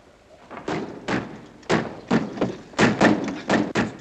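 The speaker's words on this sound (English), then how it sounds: "Dick, lock the door." A series of thumps and clunks as a door is shut and locked in a tense 1950 wartime film scene in the Philippines, with several loud irregular knocks and slams close by.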